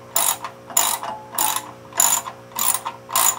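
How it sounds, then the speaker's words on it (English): A ratchet loosens rusty bolts on a grow light ballast, giving six loud, close bursts of fast clicking strokes at an even rhythm over a faint steady hum. "See, the ratchet, even though these bolts look rusty, they come"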